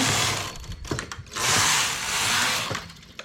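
A knitting machine carriage sweeps across its bed knitting rows at normal stitch tension, giving close mechanical clatter and ratcheting with a couple of smooth sliding passes.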